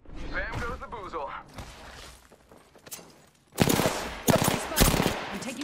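Gunfire in the video game Apex Legends: after in-game voice lines, a dense burst of rapid automatic shots erupts in the second half, loud and close, in several clustered volleys.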